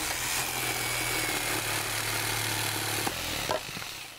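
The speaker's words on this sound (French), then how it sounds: "vais t'apprendre à te servir d'une scie sauteuse pour couper les planches de l'étagère que nous devons construire." A jigsaw saws through wooden shelf planks in a cartoon, producing a steady, loud buzzing motor drone that holds for several seconds before a few brief clunks near the end.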